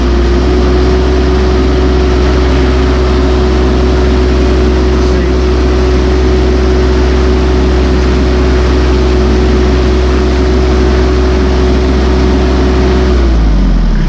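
A Massey Ferguson 1M.25 hydrostatic compact tractor's engine runs at wide open throttle, a loud, steady, close droning roar that holds level for about thirteen seconds before dropping off at the end.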